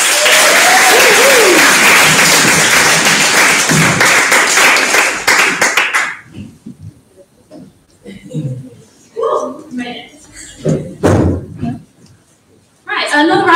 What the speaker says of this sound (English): another round of applause for Charlotte there